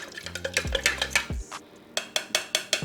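Homemade ant spray of vinegar, dish soap and peppermint oil being stirred into a sludgy mix, with a series of clinks and scrapes against the container, some sharper knocks near the end, and no talking.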